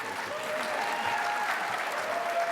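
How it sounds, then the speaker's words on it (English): Steady applause from a crowd at a New York state grant award ceremony, a dense wash of clapping at an even level throughout. "Mayor Blask was welcomed with thunderous applause."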